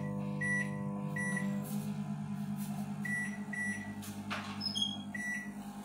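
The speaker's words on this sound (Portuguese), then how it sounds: "ainda tem um bocado de barulho no micro-ondas" A microwave oven runs with a steady low hum, and repeated short electronic beeps sound over it. Nearby and fairly loud, with no talking.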